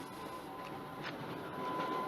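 A train runs steadily on its rails, a continuous low rumble with faint rhythmic clatter heard from inside, quiet and unbroken with no talk.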